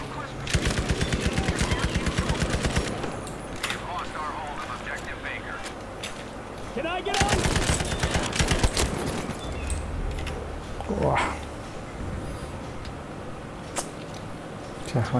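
Rapid automatic gunfire and scattered shots from Battlefield 5 gameplay come in dense bursts with pauses between them, while a player talks over the noise.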